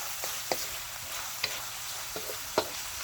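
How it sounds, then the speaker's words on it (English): Bacon sizzles and crackles steadily in a pan while being stirred, with a few sharp utensil scrapes and pops standing out over the continuous frying hiss; no one talks. "we are going to cook the bacon until it's crispy."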